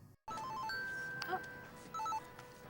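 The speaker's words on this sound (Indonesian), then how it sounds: "Lalu telepon berbunyi." A telephone rings in the 2009 film Orphan, with warbling electronic ring bursts in a short repeating pattern, moderately loud over a quiet room tone.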